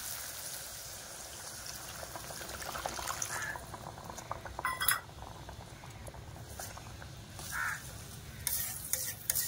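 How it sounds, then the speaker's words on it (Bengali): Water poured into a pan of frying koi fish curry (koi telani) and stirred, giving a steady sizzle with scraping spoon strokes and splashy liquid bursts, close and fairly quiet with no talking. "আমি এবার 1 বাটি জল দিয়ে দেবো।"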